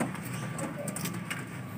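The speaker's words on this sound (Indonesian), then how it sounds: "Nah ini burungnya Kang Suraji nih teman-teman." Racing pigeons coo softly in a loft in Balikpapan, a faint, steady murmur of low calls over room hiss with no clear individual notes.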